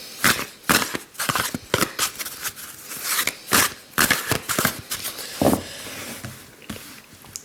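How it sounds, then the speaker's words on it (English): Board game tiles for Escape: The Curse of the Temple are shuffled by hand, making a dense run of close clattering and sliding clicks that rise and fall without pause. "All the other tiles are going to be shuffled"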